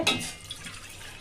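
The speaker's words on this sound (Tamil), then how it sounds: "இந்த தண்ணியை ஊற்றிக்கலாம்" A short splash of boiled water pouring for cooking kodo millet rice, loud at first and then softening into a gentle trickle, with no voices.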